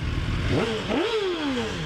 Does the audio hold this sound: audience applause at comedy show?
no